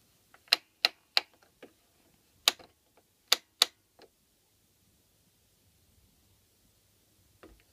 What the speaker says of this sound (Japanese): 時計の遊びができます。